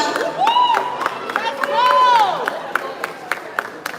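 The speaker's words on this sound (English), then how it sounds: "A round of applause for Maria." Crowd applause and cheering for a contestant introduced on stage at a Tekken 8 esports tournament, a steady wash of clapping and whoops under a loud announcer's voice and crowd shouts.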